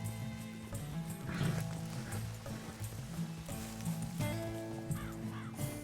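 A horse in Red Dead Redemption 2, with hooves clip-clopping and snorts mixed among game ambience, outdoor trail sounds and tonal music, continuous at moderate level.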